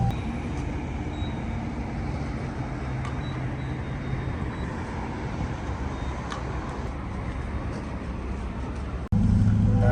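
Steady engine and road drone from inside a moving Chevrolet Corvette C8, a constant low rumble with tire noise, rising abruptly louder near the end.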